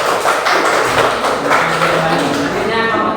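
A primary school class applauds a student group, dense close clapping from many hands that runs steadily throughout while voices talk over it.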